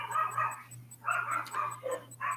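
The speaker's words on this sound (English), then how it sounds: "you can probably hear Monterey harassing the dog on the other side of the fence." A dog barks at another dog across a fence, giving a series of short, moderately close barks and yips in irregular bursts over a faint steady hum.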